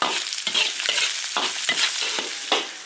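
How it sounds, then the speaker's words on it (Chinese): Chinese cured pork (la rou) stir-fried in an iron wok, giving steady sizzling with a spatula scraping and tossing in rhythmic strokes roughly every half second, close and fairly loud with no talk. "把腊肉炒香，炒出多余的油脂。"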